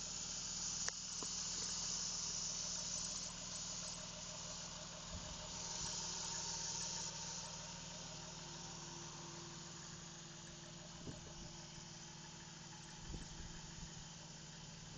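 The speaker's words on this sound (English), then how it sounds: "But as you can see, motor is quiet." A supercharged 1JZ-GTE engine idles quietly in a daily-driver car with a stock hydraulic fan, giving a steady, low, even hum throughout, with faint insect chirps in the background.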